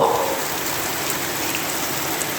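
Steady, dense hiss of evening rain heard from a house veranda, falling continuously, an even wash of patter with no voices or other distinct sounds.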